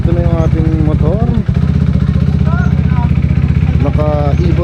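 Kawasaki ZX4RR motorcycle engine idling and revving loud and close, a steady throb with a few quick throttle blips, while someone talks over it.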